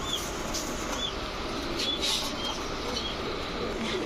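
Jabra pigeons at a pigeon market give soft, low cooing calls, faint and repeated against a busy, noisy background of other birds.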